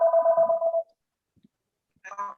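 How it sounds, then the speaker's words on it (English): Telephone ringing during a planning commission meeting, a single electronic tone burst followed by silence, then a fainter second ring. "we'll stop that phone in a second, hold on"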